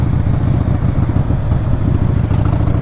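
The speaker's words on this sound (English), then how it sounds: "This bike's got a good sound." A Harley-Davidson Sportster motorcycle with a stock setup runs close by, its engine giving a loud, steady, throbbing low rumble that holds unbroken throughout with no voices.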